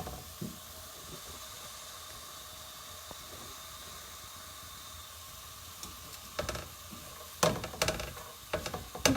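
Chopped onion cooks in a pan over very low heat, giving a soft, steady hiss and gentle sizzle. Faint scrapes and clatters of stirring pick up toward the end.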